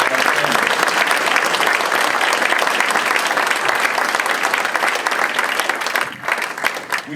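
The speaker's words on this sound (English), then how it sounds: "Ladies and gentlemen, please join me in a round of applause." A large audience at a gubernatorial candidates' forum in Plantsville, Connecticut gives a loud, sustained round of applause for the candidates, dense and steady before thinning slightly near the end.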